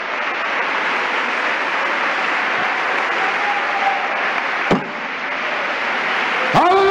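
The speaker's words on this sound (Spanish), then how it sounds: "¡Un aplauso!" Church audience applauding during a sermon, a steady, fairly loud roll of clapping that holds throughout, broken near the end by a couple of sharp knocks.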